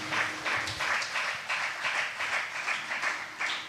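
A church congregation claps together in steady rhythmic bursts, loud and close, continuing throughout with no voices over it.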